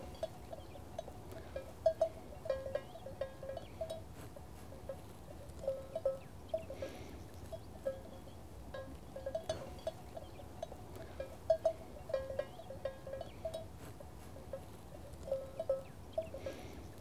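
Ewes graze in a quiet pasture, their bells tinkling in sparse, irregular clusters at moderate distance against a soft, low background.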